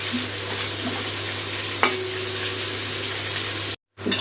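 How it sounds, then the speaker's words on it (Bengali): Steady sizzling of onions frying in hot oil until browned and crisp, with a brief scrape of stirring partway through and a short silent gap near the end. "পেঁয়াজটা লাল করে ভেজে নেবো।"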